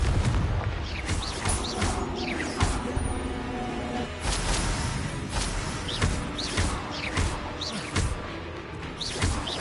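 Repeated Confringo fire-spell blasts in the Hogwarts Legacy video game, a series of sharp booming impacts and crashes over busy game noise and music, with a voice shouting in between.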